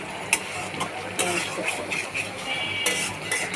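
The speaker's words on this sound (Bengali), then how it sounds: "নাড়াচাড়া করে দিলাম।" Mango stem curry being stirred in a pot, with soft scraping and clinking of a utensil against the cookware, moderately close, in a steady kitchen texture.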